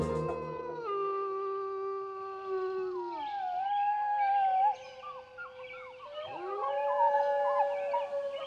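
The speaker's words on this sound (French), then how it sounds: "Ce sont des hurlements de loups dans différents dialectes" Wolves howl in several regional styles, long rising and falling tones overlapping one another in a sustained chorus, clear and fairly close, with no talk over them.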